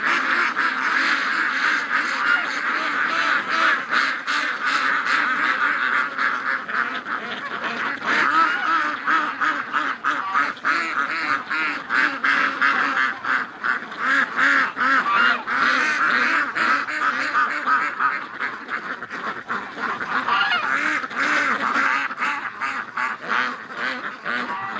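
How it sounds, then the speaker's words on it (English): A flock of ducks being rescued on an icy winter lake, calling continuously in a loud, dense chorus of overlapping quacks and honk-like cries that runs nearly unbroken from start to finish. "Wake up, ducks."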